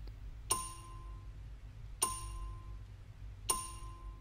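A bell in the video game Hide Alone rings three times, evenly spaced sharp metallic strikes each leaving a ringing decay, clear and alone over a faint low hum.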